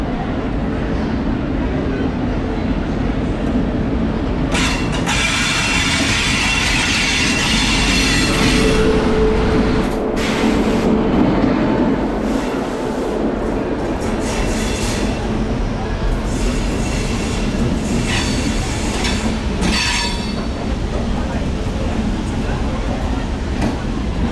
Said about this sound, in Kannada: ಬೆಂಗಳೂರು ಕಡೆಗೆ ಹೋಗ್ತಾ ಇದೆ ನಮ್ಮ ಕಾಚಗುಡಿ ಎಕ್ಸ್ಪ್ರೆಸ್ ಅಂತೂ ನೋಡ್ಬೋದು. ಹೋಗ್ತಾ ಇದೆ.